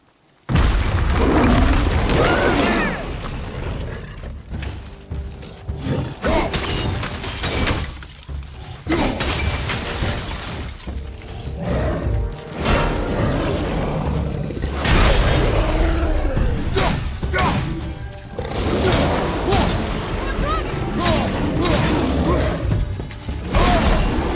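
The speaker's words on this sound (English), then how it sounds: "Something's breaking through the wall!" Loud crashing and shattering as something breaks through a wall in the God of War video game, with booming impacts, grinding mechanical noise and debris bursts recurring throughout.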